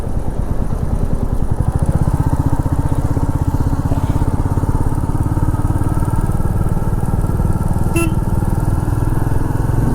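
A motorcycle rides along a road at night near the Sonapetia toll plaza on the way from Kolkata to Digha, its engine droning steadily and loudly close by for the whole stretch, with wind rush and no talk.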